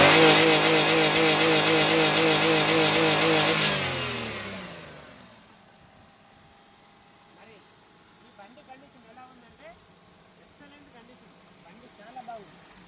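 A 2011 Maruti Wagon R VXI petrol car engine revs hard and holds high for about four seconds, then winds down to a quieter idle with faint clicks and knocks, with no talking.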